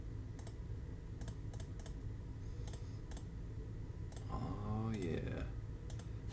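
A computer keyboard and mouse click in quick, irregular bursts close to the microphone, sharp individual taps scattered throughout, with a person briefly speaking near the end.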